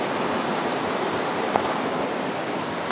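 A riverside stream flows continuously, a steady close wash of rushing water with no clear breaks.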